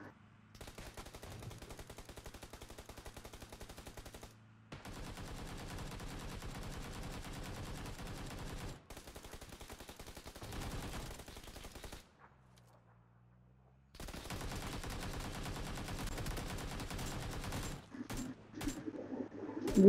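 Single-fire AKM rifle shots in the PC game PUBG Lite come as long runs of quick, evenly spaced cracks, broken by short pauses and one longer silence, fairly quiet overall.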